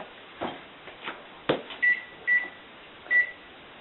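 Microwave oven keypad beeps as cooking time is entered, a few light button clicks followed by three short, clear electronic beeps at an uneven pace, close and alone.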